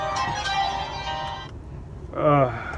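A company phone rings with an incoming telemarketer call, a bright harmonic ringtone sounding in a burst then pausing before another shorter electronic trill, heard under a person talking nearby.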